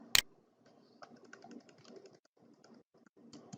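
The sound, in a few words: typing a chart title on a computer keyboard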